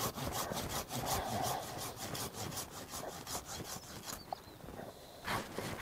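A hand saw cuts through the lower branches of a fruit tree in quick, rhythmic back-and-forth strokes, close and loud, with a brief pause near the end before sawing resumes.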